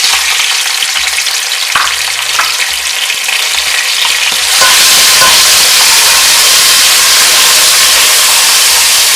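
Chopped tomato and green chillies drop into hot oil, with a few stirring knocks at first, then a loud, continuous sizzle that fills the rest, alone without voices.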